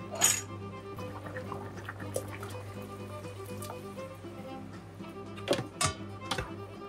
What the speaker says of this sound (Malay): So, I nak kena tuang air, okey.